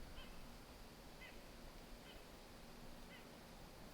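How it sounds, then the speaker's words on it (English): Faint nasal calls of a white-breasted nuthatch repeat four times at a steady pace in woods, distant and soft over a hissy background. "According to the Merlin Bird ID app, that is a white-breasted nuthatch."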